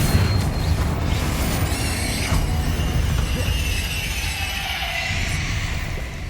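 A Confringo fire spell erupts in Hogwarts Legacy, a dense, rumbling blast that roars on without a break, mixed with crackling debris and faint high whistling trails.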